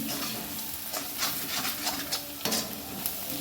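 Steady crackling sizzle of salted onions frying in hot oil, close and continuous, with occasional louder stirring scrapes.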